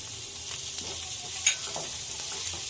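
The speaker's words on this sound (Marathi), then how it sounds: "आता हे आपण कांदा मिरची चांगलं परतून घेऊया" Chopped onion, green chili and crushed garlic sautéing in a pan, a continuous sizzle broken by stirring scrapes and a few louder clinks of the spoon, close up with no talking.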